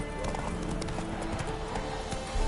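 Roach, the horse in The Witcher 3, trots with a steady clip-clop of hooves, close and continuous, under a busy game soundscape.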